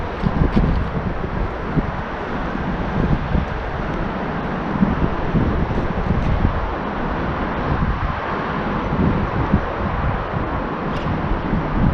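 Wind rumbles against the microphone outdoors beside a building, a loud continuous buffeting with gusty low roar and no voices.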